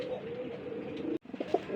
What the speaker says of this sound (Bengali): নটটা কিন্তু খুবই অ্যাক্টিভ, খুব পাগলের মতোই ডাকে